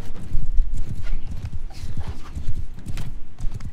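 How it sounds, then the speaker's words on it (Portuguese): Horse hooves gallop in Mount & Blade II: Bannerlord, a fast, uneven clip-clop of repeated thuds close by and fairly loud, running the whole stretch with no speech over it. "Esse cavalo dele corre bem mais que o meu."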